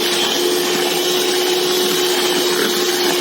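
An electric mixer whirs nonstop while beating cake batter for a family-sized cake in a large tray. The whine is steady and fairly loud for the whole stretch, with no voices.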